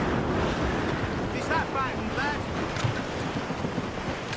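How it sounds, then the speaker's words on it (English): Vicious wind and waves at sea in Assassin's Creed Rogue: a steady, loud roar of gusting wind and surf around a sailing ship, with faint creaks and a muffled voice buried under the wash. "Wind's getting vicious"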